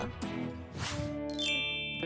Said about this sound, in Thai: มีอะไรแจ้งเตือน